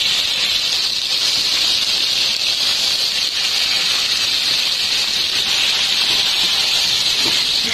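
Chicken pieces fry with garlic in a hot pan, giving off a loud, even sizzle and hiss that runs unbroken throughout, with no voices.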